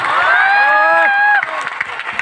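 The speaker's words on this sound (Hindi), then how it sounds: "तालियां हो जाए guys." Student audience at an indoor hall event cheering and whooping for teachers, loud sustained shouting voices with applause underneath, cutting off abruptly into scattered crowd noise and claps.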